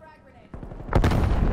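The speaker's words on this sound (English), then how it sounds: "Throwing frag grenade." A frag grenade blows up in Call of Duty: Cold War: a sudden loud, booming blast about two-thirds of the way in, with a rumbling tail that stays strong to the end, after quieter game noise and a few thumps.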